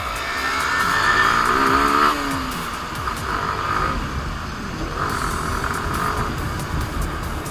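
Motorcycles including a Yamaha R15 and a Suzuki Gixxer racing on a road at night, engine drone rising and shifting pitch as a bike passes, followed by continuous road and wind roar, steady and fairly loud, no talking.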